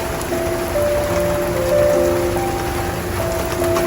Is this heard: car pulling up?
no